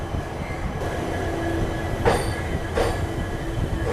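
Indian passenger train pulled by a WAP4 electric locomotive departing a station, a steady rolling rumble with two sharp wheel squeals and rail clatter, no talk.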